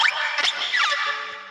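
A swinging, vibrating spear rendered as a musical sound gives brief whooshing sweeps and scratchy, airy swishes that taper into a faint lingering hum.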